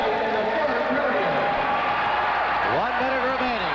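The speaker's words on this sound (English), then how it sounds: "Listen to this crowd." A packed ice hockey arena crowd at a 1987 USA versus USSR friendly roars steadily in the closing minute, a dense, continuous wall of cheering with commentary voices running over it.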